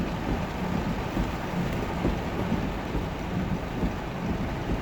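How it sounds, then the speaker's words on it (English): Heavy rain pours steadily during a downpour on flooded streets, a dense, loud, unbroken wash of noise with low rumbling throughout and no voices. "Oh my goodness, look at all the rain."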